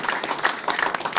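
An audience applauds at the opening of a political campaign office, a steady patter of many hands clapping throughout at moderate level.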